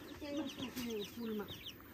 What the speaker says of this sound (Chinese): 哎，小鸡，还有小鸡仔了这